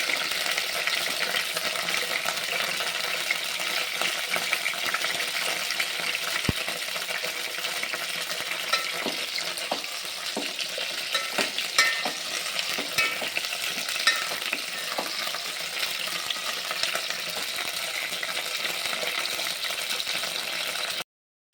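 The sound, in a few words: eggplant being stirred and fried in a pan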